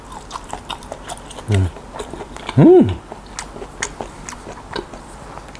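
Steamed okra being chewed during a Thai mukbang meal of mackerel chili dip and steamed vegetables: close, soft wet clicks and crunches, with a brief hummed voice in the middle.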